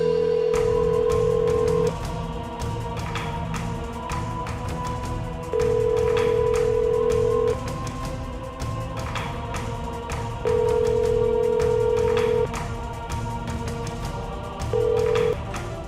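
A steady telephone ringback tone repeats in long, evenly spaced beeps over background chatter and street noise.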